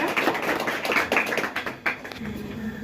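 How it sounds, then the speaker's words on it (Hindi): Audience at a National Youth Day event clapping, a dense patter of applause that thins out and fades toward the end, with a faint voice underneath. "एक बार आने के लिए जोरदार तालियां।"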